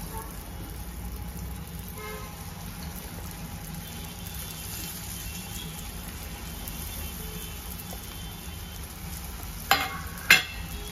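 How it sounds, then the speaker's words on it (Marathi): Harabhara veg kebabs fry in hot oil in a frying pan over medium heat, making a low, steady sizzle, with two sharp clatters near the end. "आता आपण फ्राय पॅन मध्ये तेल टाकलेलं आहे, तर त्याला घेऊया।"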